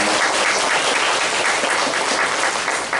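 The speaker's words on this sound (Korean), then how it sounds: "우리 다시 한번 감사의 박수 부탁드리겠습니다" A church congregation gives a thank-you applause to an elder after a hymn at a Sunday worship service. The clapping is close, loud and continuous for the full few seconds.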